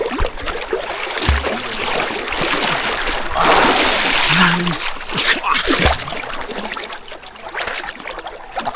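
A strong river current rushes past close by, a steady loud wash of water with splashes, as people talk over it.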